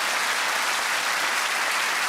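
A studio audience on a comedy panel quiz show breaks into steady, dense applause that fills the whole stretch at an even level, with no one speaking over it.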